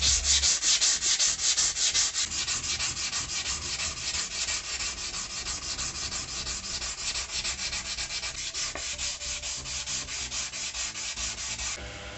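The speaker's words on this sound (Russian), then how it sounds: "Вот, сейчас будем все это шлифовать." An old hardened steel file is sanded down to repurpose it, giving a steady, loud abrasive rasping hiss with a fast rhythmic rub that continues for the whole stretch without pause.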